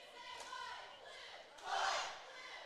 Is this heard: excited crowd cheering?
yes